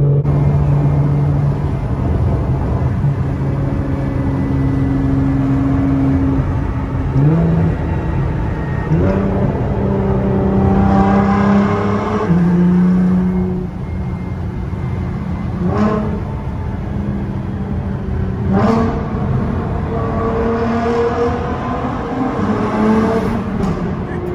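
Continuous engine drone and road noise from inside a moving car, with shifting revs as it speeds up and changes gear.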